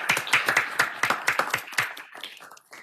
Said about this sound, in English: I think we owe you a round of applause